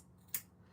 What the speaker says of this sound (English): You can go ahead and cut that corner off if you want.